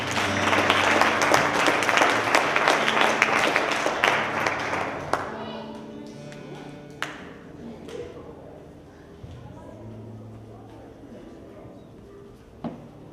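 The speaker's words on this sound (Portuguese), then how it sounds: "Deu a salva de palmas para Jesus." Congregation applause in a church during a 2012 congress service, a dense burst of clapping under an amplified voice that fades out after about five seconds, leaving quieter murmuring and a few scattered claps.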